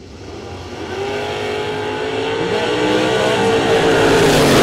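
Drag racing cars at a strip rumble loudly up close, the engine roar building steadily in pitch and volume as they launch, with no voices over the noise.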